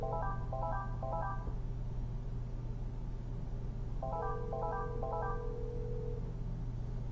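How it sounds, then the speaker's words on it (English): A Polycom VVX500 desk phone rings for an incoming office call. It plays two bursts of rapid, stepped electronic chirps separated by a pause, over a constant low hum. "You can see that the office is calling. And then it has its special ringtone."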